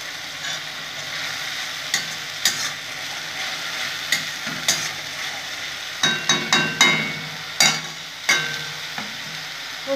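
Lotte fish curry being stir-fried in a pan, a steady sizzle with repeated sharp scrapes and clinks of a spatula stirring against the pan, close and fairly loud, no talking.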